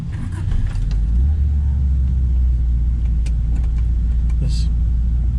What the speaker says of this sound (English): Get her going.